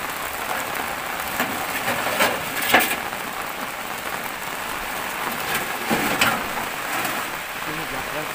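Steady rain falls on surfaces around a house, with scattered louder drops and knocks breaking through the even hiss; a voice speaks faintly in the background.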